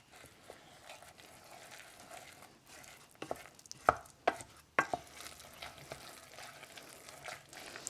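Oats are stirred into a thick no-bake cookie mixture in a bowl or pot, with soft, quiet scraping and a few sharper knocks of the spoon against the side.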